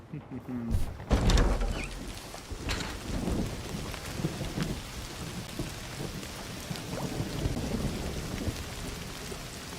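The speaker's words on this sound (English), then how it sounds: "Don't you love rain?" Steady rain with rolling thunder in the video game Indiana Jones and the Great Circle, a loud rumble near the start, then continuous downpour with a voice speaking over it.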